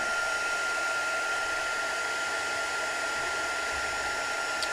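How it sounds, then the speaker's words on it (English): A heat gun blows hot air onto a cosplay prop piece, a loud, steady, unbroken rush of air that holds constant throughout with no talking. "Let's see with the heat gun again."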